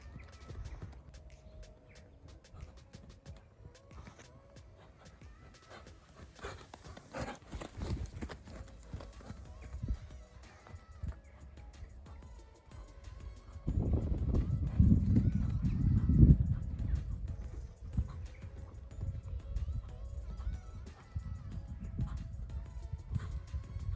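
Horse cantering around a diamond of poles in a home jumping exercise, hooves thudding in a steady rhythmic beat that grows louder and closer midway, over faint outdoor background and occasional distant voices.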